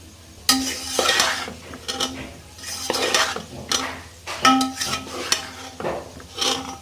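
Rainbow macaroni and beef keema mixed in a pan, a utensil clattering and scraping against the metal in irregular bursts over a light sizzle, close by and without voices.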